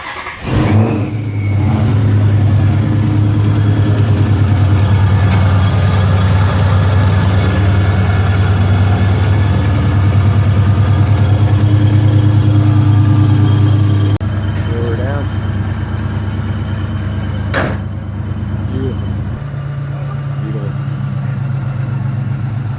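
A 2017 Dodge Challenger Scat Pack fresh from an AMSOIL oil change cranks with a sharp start, then settles into a loud, deep, steady idle that drops slightly in pitch partway through, heard up close.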